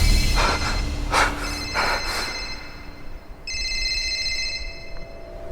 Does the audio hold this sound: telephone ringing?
yes